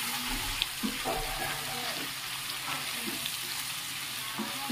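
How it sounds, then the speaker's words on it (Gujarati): Vegetables tempered with sesame, fennel, garlic and green chillies fry over low heat on an electric stove, a steady soft sizzle heard close by with light stirring clicks and no talking. "આ ખાલી વઘારી ઇલેક્ટ્રિક સગડીમાં ધીમા ધીમા તાપે થવા દઈએ"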